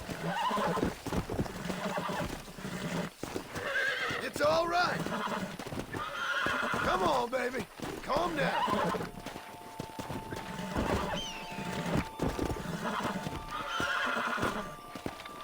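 Horse being caught in Red Dead Redemption Mobile, loud neighs and whinnies over steady clip-clopping hooves, close and continuous, with someone talking over much of it.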